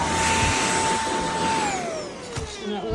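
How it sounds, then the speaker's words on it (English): A Shark PowerDetect ultra-light corded stick vacuum with DuoClean runs loudly and close with a steady whining motor hum, its pitch sliding lower partway through as it switches between floor and carpet mode. "And vacuum the floor, go back on the rug, or your carpet, and puts it in carpet mode."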